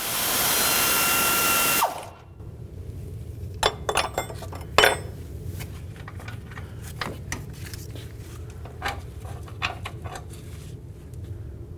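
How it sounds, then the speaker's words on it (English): Wrench work on the center engine mount bolt of a 1994-2004 Chevy S-10: after a loud rush of power-tool noise stops, a series of sharp metallic clicks and clinks of tools on the bolt and nut follows, close and irregular. "I'm going to hold that nut and then remove the bolt."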